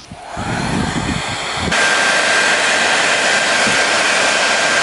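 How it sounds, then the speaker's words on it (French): A hair dryer whooshes on with a loud, constant blowing roar and a thin high whine that continues steadily to the end, heating glue to peel it off. "Avec un sèche-cheveux, ça marche très bien."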